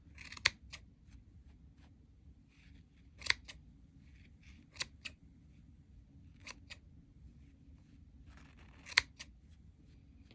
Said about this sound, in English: just cut all of them open.